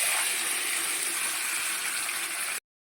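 Water pours steadily into a cooking pot of curry with bay leaf, dried chilli, garam masala, cardamom, cloves and potatoes, a continuous close splashing gush that stops abruptly.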